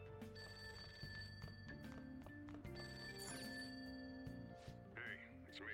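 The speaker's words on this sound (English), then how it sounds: "Oh yeah, the phone." A phone rings in the video game Persona 5 Royal, with steady repeating rings over soft background music and game sounds, while a voice talks quietly underneath.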